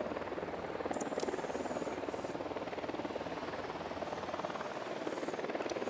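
A helicopter flies in the Ghost Recon Wildlands video game, its rotor chop a steady, dense, continuous beat throughout, with a few brief bright blips over it.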